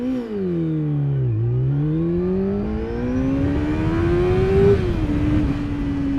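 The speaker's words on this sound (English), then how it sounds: "Keeping that throttle on and getting it nice and high up in the revs." A 600cc sportbike engine dips briefly, then screams steadily higher in revs during a launch, a loud close whine rising in pitch before easing off at the end.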